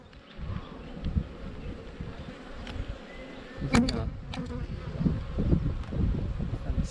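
Honeybees buzz steadily during a hive inspection, a close, continuous insect drone with occasional knocks and handling noises over it.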